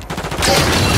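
Gunfire in the video game Modern Warfare 3, a short loud burst of rapid shots with a quick sputter of rounds that swells into a dense roar of fire, close and intense.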